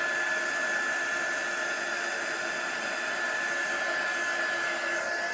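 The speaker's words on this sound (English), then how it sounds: "just holding the heat gun still, and then as soon as we see that embossing powder start to melt" Heat gun blowing steadily while melting embossing powder for cardmaking, a constant close hiss of hot air with no breaks and no speech.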